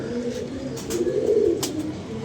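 Pigeons coo in short, low, throaty murmurs at close range over a couple of seconds, with a faint background hum.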